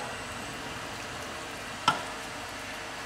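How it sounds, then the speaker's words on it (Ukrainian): Tomato sauce made from blender-pureed tomatoes simmers in a pan, giving a soft, even hiss of bubbling with one brief clack partway through. "Тепер даємо випаруватися цьому томатному соусу."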